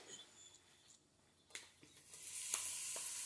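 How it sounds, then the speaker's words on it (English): A seasoned chicken breast sizzles faintly in a pan for fried rice, with a soft, uneven crackle that swells midway and holds steady to the end. "And I hear a little sizzle,"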